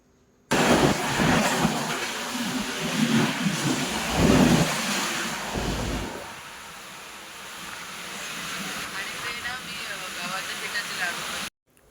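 Steady rumble and rushing noise of a moving train near Thane, loud and continuous, with a louder clattering stretch early on before settling into a smoother roar.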